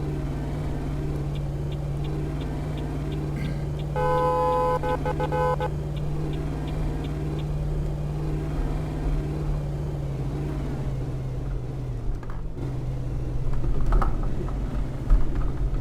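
Simulated car with a 6.2L engine driving in Euro Truck Simulator 2 on a wheel controller, a steady low engine drone with a brief burst of tonal game beeps early on and a slight rise toward the end, no speech.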